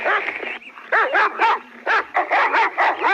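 A big dog barks in a quick series of about eight loud, close barks and yelps, some bunched in pairs, with short gaps between.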